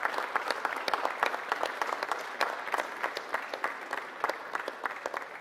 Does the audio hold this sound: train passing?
no